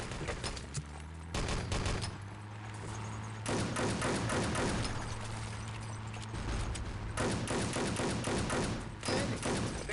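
Sustained volleys of rapid gunfire rattle through a competitive video game match, dense bursts stopping and restarting around a tank battle, loud and close with a low engine drone underneath.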